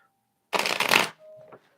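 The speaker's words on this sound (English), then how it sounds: "One more shuffle, and we are good to go." A deck of tarot cards is riffle-shuffled once, a short close burst of rapid fluttering clicks followed by a softer settling sound, with no talking.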